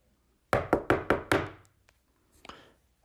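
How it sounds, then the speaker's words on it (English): Five quick, firm knocks on a door in an even rhythm, loud and close in a quiet room, followed by a fainter knock or two a moment later. "I heard the door knock again"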